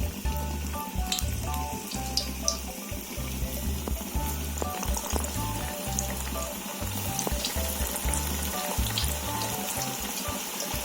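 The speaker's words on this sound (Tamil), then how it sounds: "இப்போ நம்ம வாழைக்காவை நம்ம எண்ணெயில் போட்டுக்கலாம்." Masala-coated raw banana slices fry in hot oil, a dense, loud, steady sizzle and crackle with small pops that carries on throughout without talk.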